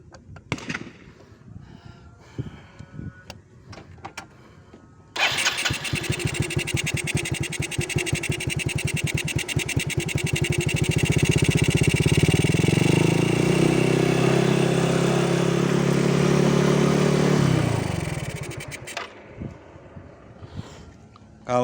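A motorcycle engine fitted with a PE 24 carburetor and PWK nozzle starts up after faint clicks, idles with a rapid popping beat, then revs up, holds a loud steady drone and drops back before cutting off.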